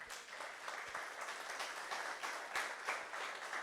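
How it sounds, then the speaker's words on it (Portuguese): Congregation applauding during an Easter communion service in a church, steady dense clapping held throughout at a fairly quiet level. "Vamos aplaudir Jesus?"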